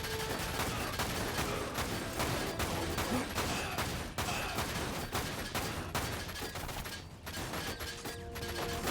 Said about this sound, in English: Run around in circles and shoot the guys before they shoot you.